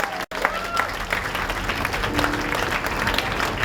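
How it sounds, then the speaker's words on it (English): A church congregation at a prayer service claps hands together, a dense and steady wash of applause with some scattered cheering mixed in, moderately loud. "Clap your hand."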